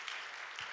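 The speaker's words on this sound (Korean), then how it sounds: "우리 뜨거운 박수로." A church congregation at a Sunday worship service gives warm applause, soft and somewhat distant, a brief patter of clapping with no talk over it.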